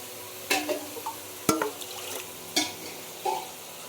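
Ingredients for a Bengali drumstick curry are sautéed in a pan, with a low sizzle under four distinct scraping, clattering spoon strokes spaced about a second apart.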